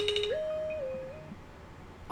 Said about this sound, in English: Okay, well, that's my alarm.